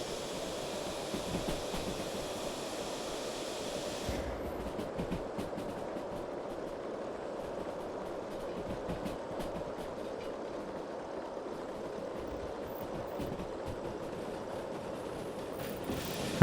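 A Big Boy steam locomotive hauls about 1,000 tons of coal in the train game Derail Valley, a steady rolling rumble with faint rail clatter running continuously and no voices.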